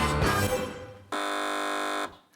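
A quiz show buzzer gives one flat, steady electronic tone lasting about a second, loud and alone after a brief burst of noise from the panel.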